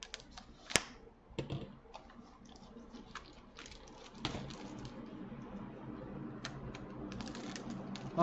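Typing on a mechanical keyboard with Zealios 65g switches on a brass plate, a Klippe and DZ60 build, gives scattered close keystroke clacks followed by a denser run of fast, light typing.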